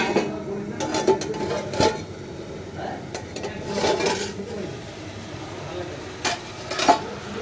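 Food frying in a pan in a home kitchen, with a low sizzle running under clattering pots, utensils and stirring knocks, and a voice talking in places.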